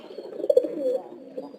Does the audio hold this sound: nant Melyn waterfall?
no